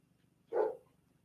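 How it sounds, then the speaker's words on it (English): A single short bark from a pet dog in the background of a home room, muffled and moderately distant, standing alone against a quiet backdrop. "sorry about my dog barking in the background"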